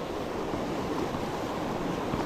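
A fast-flowing, cold mountain river in Pakistan, at a snow trout fishing spot, makes a steady, moderately quiet rushing hiss with no talking.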